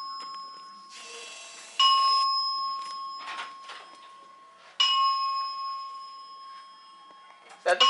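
A building fire alarm in Toronto sounds in repeated loud electronic tone bursts, each starting sharply with a steady ringing pitch before fading, recurring every few seconds nearby.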